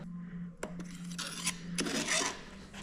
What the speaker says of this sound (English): Let's get that snap ring off that's in there.